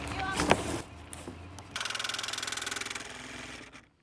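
A jigsaw cuts through steel square tubing on a bus being worked on. The blade strokes make a rapid, steady rattling buzz that starts partway through and runs for about two seconds, loud and close. A brief clatter of handling noise comes before it.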